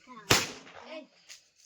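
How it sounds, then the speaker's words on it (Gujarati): A single sharp firecracker bang goes off at a Diwali celebration, followed by a fainter second pop, with people talking around it. "ફટાકડા ફોડતા આવ ને તાર"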